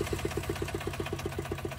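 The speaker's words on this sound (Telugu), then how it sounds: "ఇంజన్ కూడా స్టార్ట్ చేసి చూపిస్తాను." A low-budget vehicle's engine idling steadily, a close, even chugging pulse repeating rapidly and evenly throughout with no talk.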